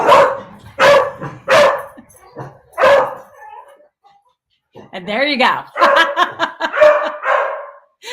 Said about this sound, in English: I'm sorry about the dogs barking